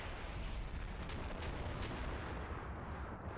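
An artillery barrage in Combat Mission: Cold War, during a Marine amphibious landing, comes through as a faint, continuous wash of distant thuds and crackling fire, with no voices.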